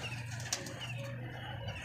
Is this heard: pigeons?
yes